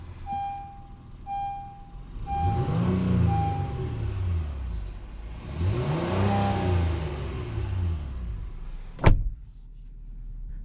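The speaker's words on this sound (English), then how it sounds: "I'm gonna go ahead and take it on a test drive and see how it does." A 2021 Honda Ridgeline pickup truck on a test drive, its engine rumbling and swelling through two rev rises with steady road noise, ending in a sharp click or thud near the end.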